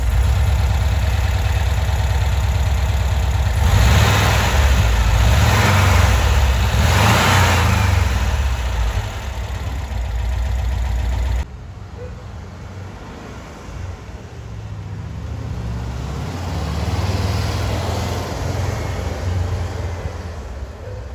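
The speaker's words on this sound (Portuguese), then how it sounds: "Som clássico, né, do motor boxer." A Volkswagen Kombi's air-cooled boxer engine runs close by with a loud, steady thrum that swells in a few revs, then settles into a lower, even idle with slight fluctuations.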